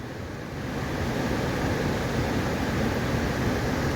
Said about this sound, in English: It is gushing with water.